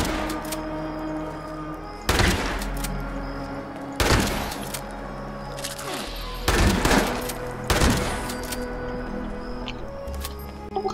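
Gunfire in the post-apocalyptic video game Fallout 76 during a fight with ants, several sharp broadband shots at about two-second intervals over a steady game soundtrack, fairly loud and up close.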